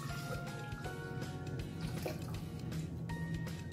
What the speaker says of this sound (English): My first ingredients I'm going to put in into my blender is my milk.